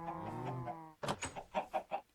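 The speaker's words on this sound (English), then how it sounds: "Hello, chickens." Chickens in the Minecraft video game give a burst of short clucking calls, several quick clipped notes in a row, heard up close and clear after a sustained tonal sound.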